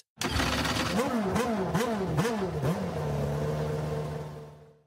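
A racing car engine, a sound effect, revs up and down in quick repeated surges, then settles into a sustained steady drone before fading, loud and close with no speech.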